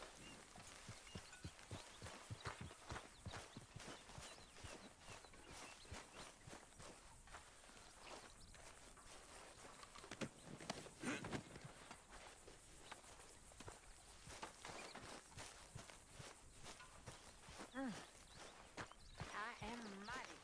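Horse hooves trot in a steady, quick rhythm throughout, moderately close, with faint background ambience and occasional voices, from the video game Red Dead Redemption 2.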